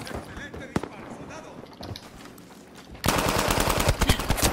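Automatic gunfire rattles in a team first-person shooter match. After a stretch of scattered game noise and talk, a dense, continuous burst of rapid shots breaks out and runs loud to the end.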